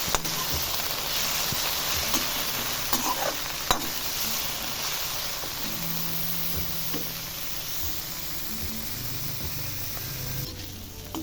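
Broccoli half-fries in a kadai with salt and turmeric, a loud continuous sizzle broken by occasional scraping stirs, with no voices over it.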